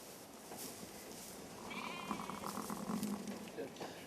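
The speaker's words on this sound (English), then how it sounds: "Now we've got this sheep with a healthy lamb." A ewe bleats beside her newborn lamb on a traditional Victorian-style farm: a few wavering calls, fairly close, over a steady background hum with some faint voices.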